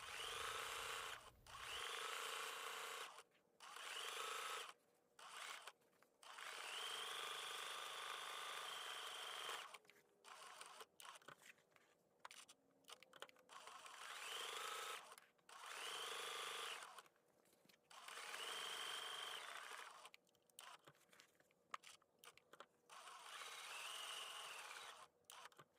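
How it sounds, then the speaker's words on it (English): A sewing machine stitches down appliqué letter and stem pieces on quilt blocks, running in steady whirring bursts of a second or more, separated by short pauses, close and clear with no talking. "I will stitch down my letter A. And once I'm done with that, I will go down and stitch down our 2 stems."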